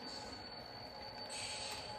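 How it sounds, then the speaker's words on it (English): Freight train on the Seaboard Central line being pulled slowly down the track, with a steady rumble and a high, sustained wheel squeal, heard at moderate distance without talk. "we're pulling the entire train down, spotting the rear up at the tower"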